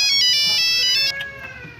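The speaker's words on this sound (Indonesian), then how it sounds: "Akhirnya, telepon nih" A telephone ringtone trills loudly and close in a bright, repeating electronic pattern, then cuts off and fades into a softer tail.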